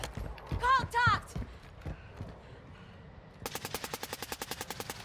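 Rapid automatic gunfire from a shooter video game rattles in a fast, even burst over the final second and a half, following brief voice sounds and scattered softer shots earlier.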